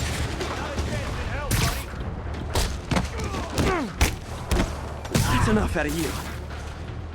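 Rocket explosions and gunfire in the Spider-Man video game: repeated loud booming blasts and thuds over about seven seconds, mixed with swooshing effects, while a voice speaks briefly.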